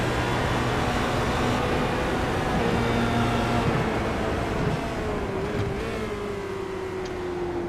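A Formula Renault race car in a racing video game drones steadily at high revs, its engine tone sliding and shifting as it changes gear along a straight, loud and continuous.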